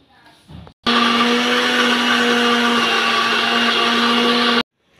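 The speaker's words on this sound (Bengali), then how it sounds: "এই 1 প্যাকেট দুধের সঙ্গে আমি আমটাকে মেশিনে খুব ভালো করে ব্লেন্ড করে নেব।" A mixer blender whirs loudly and steadily, blending mango with a packet of milk; a short burst of noise comes first, then a sustained high-pitched motor drone lasting several seconds before cutting off abruptly.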